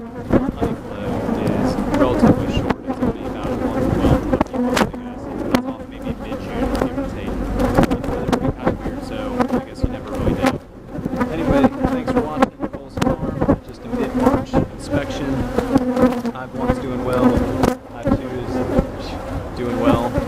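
Honeybees swarm around an open hive during a mid-March inspection, giving a loud, dense, continuous buzz close by, with occasional bumps and knocks from the hive work.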